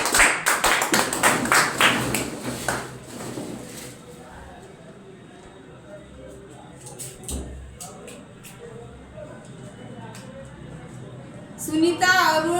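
Brief burst of clapping from a small crowd at a weekly prize draw, loud at first and fading after a few seconds into quiet room noise and voices, with a short spoken exchange near the end.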